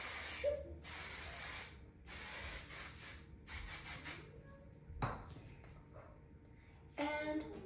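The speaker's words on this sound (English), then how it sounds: "I'm going to shoot my hair with some hairspray really quick" Flexible-control hairspray hisses from an aerosol can onto styled hair in short sprays of about a second each, separated by brief pauses and some soft rubbing, with a faint voice near the end.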